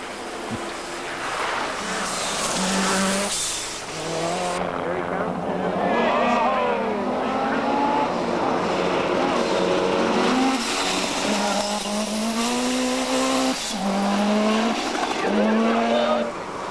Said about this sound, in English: Possum Bourne set fastest time in his class in this stage and held a narrow 2-second lead from the Volkswagen GTI of Kenneth Eriksson